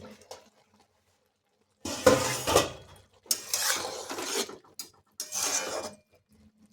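A pot lid lifted off soya pulao after simmering covered: a few close metallic clanks and scraping rattles of the lid and pot in separate bursts between quiet gaps.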